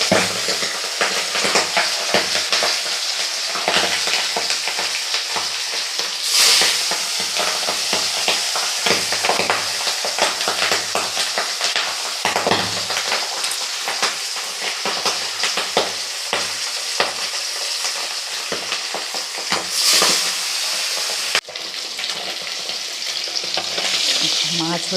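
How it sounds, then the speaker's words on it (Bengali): Fish fries in hot oil in a wok, a steady dense sizzle and crackle running throughout with occasional louder bursts and faint utensil stirring, no talk. "মাছ ভাজবো।"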